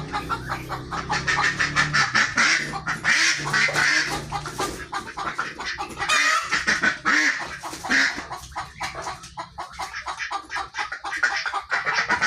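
Ducks quack loudly and continuously at a pet shop, a dense chorus of overlapping calls with fowl clucking mixed in, close and busy throughout.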